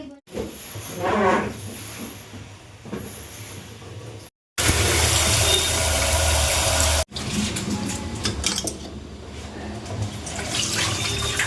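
Kitchen tap water running over rice being washed, a steady splashing hiss that cuts out briefly, returns as a loud gush, then continues with softer, uneven trickling and swishing.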